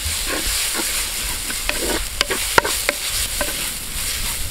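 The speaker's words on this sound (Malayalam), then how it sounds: "മഞ്ഞൾപ്പൊടി ഇട്ട് നന്നായിട്ട് ഒന്ന് മിക്സ് ചെയ്ത് കൊടുക്കുക." Turmeric powder being stirred into a mixture frying on low flame, with a steady sizzle throughout and several sharp spoon scrapes and clinks against the pan, close and distinct.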